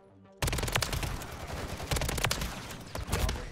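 Dense, sustained automatic gunfire in Call of Duty MW3 directed at the player, bursting in abruptly after near silence and continuing as loud, overlapping rapid shots and impacts, close and forceful.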